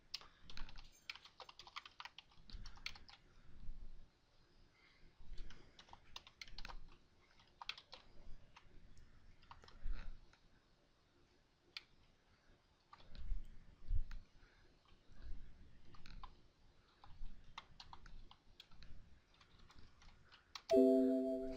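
Someone types a formula into an Excel spreadsheet on a computer keyboard: soft, close key clicks in irregular bursts and short runs separated by brief pauses, with no talking.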